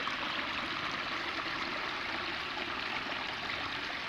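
Rainwater rushes steadily into a field during the monsoon, a continuous broadband stream-like roar with a faint gurgle, fairly close and unchanging throughout, with no voices.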